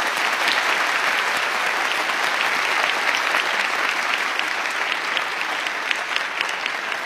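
Loud, continuous applause from a television studio audience congratulating a volleyball team, dense clapping with occasional sharper claps standing out, steady from start to finish.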